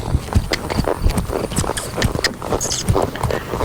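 A horse walks through a horsemanship training pattern, its hooves giving a steady irregular clip-clop of soft thuds and scuffs close by, alone without talk.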